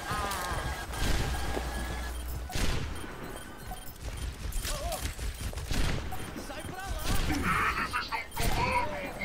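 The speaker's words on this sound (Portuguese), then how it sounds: "Nossa, errei um tiro idiota agora." Rapid bursts of game gunfire crackle amid clattering effects and scattered impacts, with a voice talking intermittently over the action.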